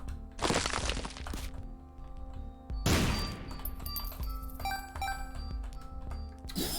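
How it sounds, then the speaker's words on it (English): In The Binding of Isaac, a bomb blows up on the reroll machine: two sharp, crunching blasts about two seconds apart, each followed by rattling debris and small chimes from the game. "now I'm gonna bomb the reroll machine"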